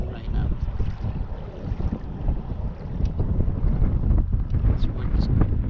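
Wind howls across Bartlett Lake in Arizona during kayak fishing, a loud low gusting rumble on the microphone with faint splashing and water movement, building toward the end.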